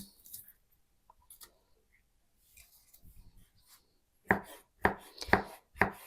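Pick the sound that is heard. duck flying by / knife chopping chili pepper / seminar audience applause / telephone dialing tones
knife chopping chili pepper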